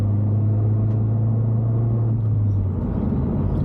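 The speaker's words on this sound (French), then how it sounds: "on entend bien le turbo chargé, c'est magnifique" Turbocharged Opel Astra H OPC engine pulling under acceleration, a deep steady rumble with a droning low hum, close and loud for a few seconds.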